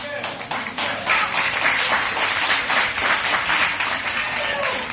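A scattering of people clap at moderate volume for a few seconds, the claps close and uneven.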